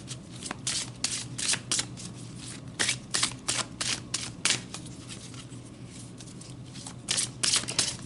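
Tarot cards are shuffled and pulled, giving repeated crisp riffling bursts in quick uneven clusters. The sound is close and moderately loud, with no talking.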